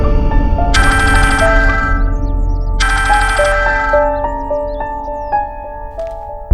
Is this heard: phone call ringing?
yes